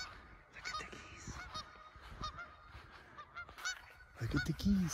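Geese honk outdoors at a Minnesota campground near Eagle Cliff, giving many overlapping calls at a moderate distance that grow louder and busier toward the end, with wind noise in the background.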